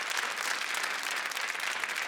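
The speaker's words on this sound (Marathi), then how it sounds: "एकदा जोरदार टाळ्या होऊन जाऊ द्या पल्लवी पाटील." A studio audience applauds Pallavi Patil on a TV heroine contest show, dense continuous clapping of many hands at moderate level, steady throughout with no voices.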